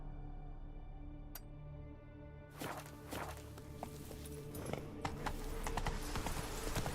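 Horse hooves clip-clop steadily in The Witcher 3 video game, a continuous walking rhythm of soft repeated hoofbeats over a low ambient background, with no talking.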